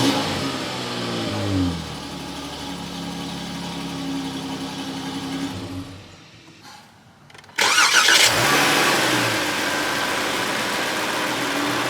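A 2021 Chrysler 300 L-Touring AWD engine pulling hard, rising whine through several climbing pitch sweeps, a brief drop-off near the middle, then a louder surge as acceleration resumes, steady and close with no talking.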